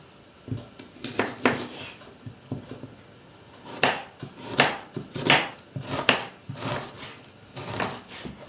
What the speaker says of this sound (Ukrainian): Цибулинку наріжу кубиками.